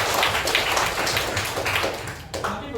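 A classroom group applauds during a teaching-practice lesson, a dense patter of clapping hands that stays fairly steady for a few seconds with some voices mixed in.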